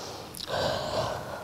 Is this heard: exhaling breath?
yes